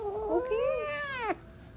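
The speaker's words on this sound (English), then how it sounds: "I got a cat recently," Pet cat meowing: a single drawn-out, rising-and-falling meow, close and fairly quiet, alone in a quiet room.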